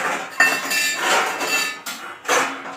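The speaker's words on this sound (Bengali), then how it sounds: "ওরে বাবারে, হাড়ি কুড়ি আর আওয়াজ করো না" Metal pots and pans clatter and clink together in a kitchen, with several sharp, close, loud bursts of banging and scraping at uneven intervals.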